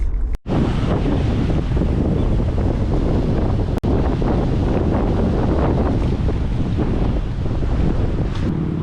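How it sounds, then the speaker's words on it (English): Heavy wind buffets the microphone in a loud, continuous roar with constant rumbling gusts throughout. "It's too windy to go sailing."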